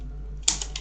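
Three quick keystrokes on a computer keyboard, crisp and close, spaced a moment apart after a quiet hum.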